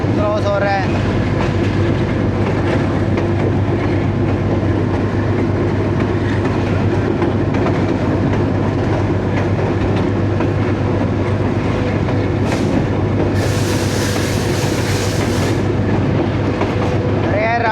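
A train rolls steadily along the rails on an early morning monsoon journey, a continuous loud rumble with faint rhythmic clatter throughout and a brief brighter hiss near the end.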